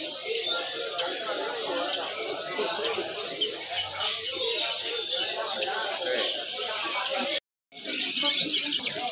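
A cucak ranting songbird chirps steadily at a bird market among other bird calls and cooing, a dense continuous chorus with a brief dropout near the end.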